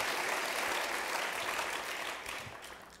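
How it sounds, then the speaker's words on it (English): Audience applause at a conference welcome, a dense wash of many hands clapping at a distance that slowly fades over three seconds. "So let's give her a round of applause."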